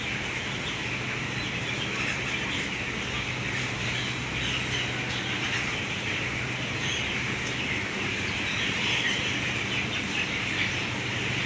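A dense, constant din of many 17-day-old chickens fills a large poultry farm house, with a continuous hum and scattered squawks throughout.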